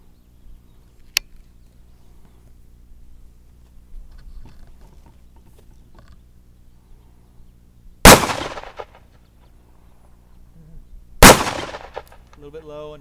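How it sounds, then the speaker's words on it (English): Two sharp, loud .357 Magnum revolver shots fired at a steel plate at rifle distance, spaced a few seconds apart, each a hard crack with a brief ringing tail, the setting otherwise quiet with faint distant voices. "this is Joe the Bachelor shooting a 357 Magnum revolver at the secondary steel plate from the distance we shoot the AK at"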